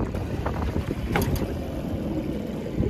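An old outboard motor on a boat out on a lake rumbles and sputters close by, with steady wind buffeting the microphone and no clear speech.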